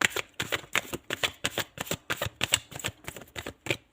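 Tarot deck shuffled by hand in a steady, even rhythm of about a dozen crisp papery slaps, close up and alone, with no voices.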